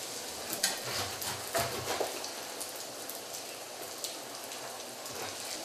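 Wontons dropped into hot oil fry with a steady, dense sizzle and crackle, scattered pops of spattering oil standing out near and clear throughout, with no talking.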